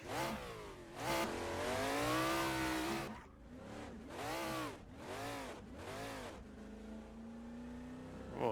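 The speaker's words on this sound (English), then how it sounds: "Again, a very powerful engine note." Ford Falcon XD Group C touring race car engine in the Assetto Corsa video game, a powerful loud engine revving hard through several rising gear pulls and throttle lifts, heard alone without talk.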